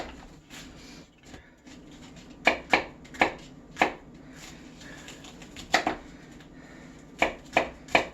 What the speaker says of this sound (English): Now we'll chop it up.